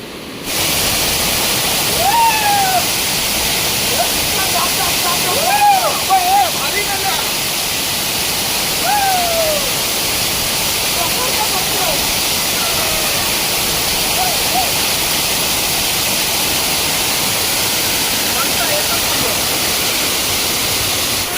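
A waterfall roars in a continuous, loud, broadband rush at close range while people bathe in it at seven in the evening, with voices and shouts rising briefly over the steady water noise.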